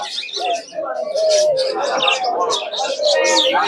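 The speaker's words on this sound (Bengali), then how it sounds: "ঘুঘুর ডাকটা শুনুন" Low, soft cooing of doves repeats under a busy layer of bird chirps and tweets at a pigeon market in Savar, Bangladesh, fairly loud and continuous throughout.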